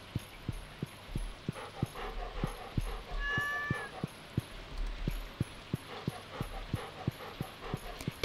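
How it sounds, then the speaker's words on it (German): A dog in the video game Stardew Valley pants loudly in a steady, quick rhythm of short puffs, with a brief thin whine partway through, heard alone without talk. "Der Hund atmet sehr laut."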